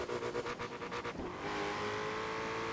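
Stock car from Forza Horizon 4 accelerating hard, with a rapid pulsing engine rasp in the opening second that then settles into a steady, loud, continuous drone as speed builds.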